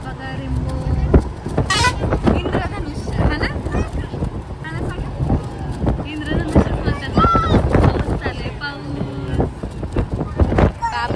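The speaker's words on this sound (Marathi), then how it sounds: "आमची बस आली चला आता जातो आतमध्ये" A bus pulls in at a village stop, its horn tooting briefly amid engine rumble, wind buffeting and ongoing conversation from people nearby.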